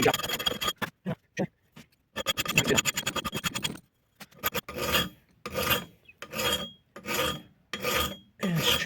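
A file cuts a chamfer on a vintage Rixford axe bit, close rasping strokes coming first in quick irregular bursts, then settling into a steady rhythm of about one stroke per second.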